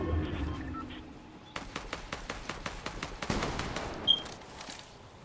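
Rapid gunfire crackles in a Fortnite match, starting after a quiet stretch and running as a steady series of sharp, evenly spaced shots for several seconds, with a louder burst near the end.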